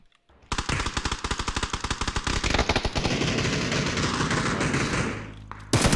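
A loud burst of rapid automatic gunfire in PUBG, distinct close shots at first that blur into a continuous roar of fire and echo, fading slightly before a final shot.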